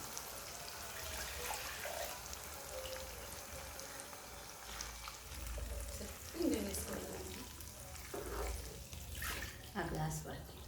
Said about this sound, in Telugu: ఈ ఇందాక కలిపి పెట్టిన పులుసు అండి